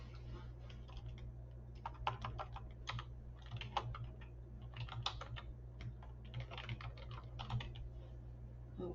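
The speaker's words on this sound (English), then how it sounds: "we're going to type in writing prompts" Steady computer-keyboard typing, with clustered keystroke bursts running throughout over a constant low electrical hum, close and moderately quiet, with no speech.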